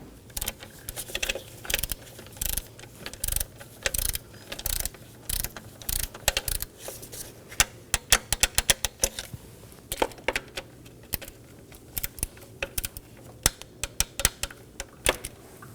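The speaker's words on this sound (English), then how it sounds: "Now we're going to torque these down to 62 inch-pounds." Rapid ratcheting clicks from a torque wrench tightening ignition coil bolts on a 2015-2023 Nissan Maxima engine, close and crisp in repeated bursts with short pauses, no talking.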